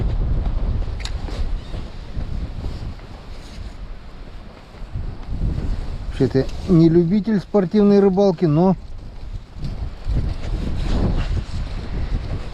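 Gusty wind buffets the microphone on a frozen taiga lake during late-winter ice fishing for perch, a rough roar running under a man's speech, with a brief whistling tonal burst in the middle.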